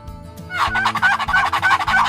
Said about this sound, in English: I'm surrounded by turkeys. They're all over the place.